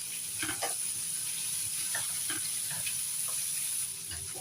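Bell peppers sizzle in a pan during the making of a savory phyllo tray with a vegetarian filling, a soft steady hiss with scattered crackles and occasional stirring clinks, fairly quiet and without talk.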